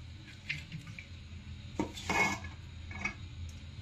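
Marinated mutton being tipped into a handi pot, with a few clinks and scrapes of the metal utensil and pot at irregular moments, a louder clatter midway, over a quiet room background.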